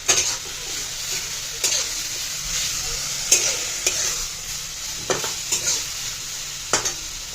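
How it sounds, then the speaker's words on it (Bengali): Shallow frying in a home kitchen pan, with tomato among the ingredients: a steady sizzle of hot oil runs throughout, broken by sharp scraping strokes of a spatula stirring at irregular intervals, close and clear with no talk. "shallow fry"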